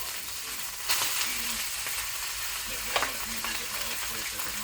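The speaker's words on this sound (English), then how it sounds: "technically speaking, we're frying the rice." Rice fries in a hot pan with a steady close sizzle, and a spatula scrapes and stirs it in a few brief bursts.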